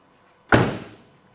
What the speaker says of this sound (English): Door closes well on both.